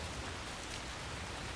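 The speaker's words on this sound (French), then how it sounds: "Il pleut de ouf." Heavy rain pours in Assassin's Creed Shadows, a thick, constant hiss of drops hammering surfaces, loud and unbroken with no speech.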